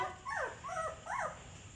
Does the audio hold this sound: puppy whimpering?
yes